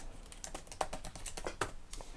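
Rapid typing on a computer keyboard while editing website menu items, a close, quiet run of irregular key clicks with a couple of sharper strikes and no talk.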